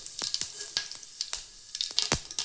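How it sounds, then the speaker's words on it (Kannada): Mustard seeds and cumin hit hot oil in a pan, giving sharp, close crackles and pops that burst irregularly over a faint sizzle. "ಇದಕ್ಕೆ ಸ್ವಲ್ಪ ಸಾಸಿವೆ ಜೀರಿಗೆ ಹಾಕೊಳತ್ತೀನಿ."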